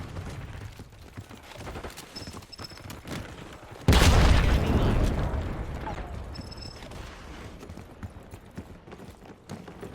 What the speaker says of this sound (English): Enemy grenade! HVT is taking Flashbang fire.